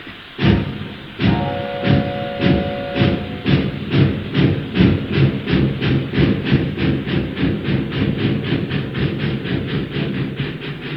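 A train clatters along steadily, a rapid rhythmic clickety-clack of wheels over rail joints, loud and close, with a brief whistle-like tone early on.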